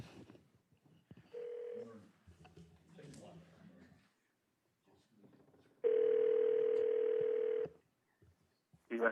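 A speakerphone at a county committee meeting places a call to a public commenter, giving a short tone, then a louder steady dial tone for about two seconds, with a faint voice and room noise between.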